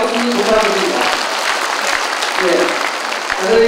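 An audience at a mayor's farewell meeting gives sustained, hearty applause, with dense clapping at steady loudness throughout, under a light crowd murmur.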